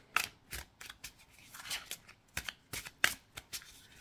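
Rune tarot cards being shuffled by hand, a quick run of crisp riffles and snaps in uneven bursts, close and clear, no voices.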